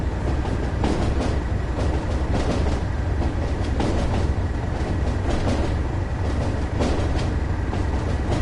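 Freight train driven in Train Sim World from Darlington Yard toward Tees Yard or Lackenby Steelworks, a steady loud rolling rumble with rail clatter throughout, continuous and close.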